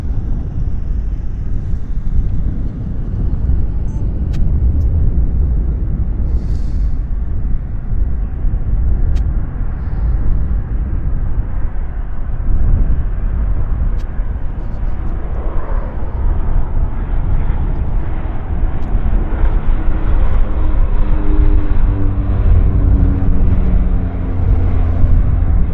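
A Pacific Coastal airplane in WestJet colours rolls down the runway for departure, a steady, loud low rumble of engine and wind noise that builds slightly toward the end, with no voices.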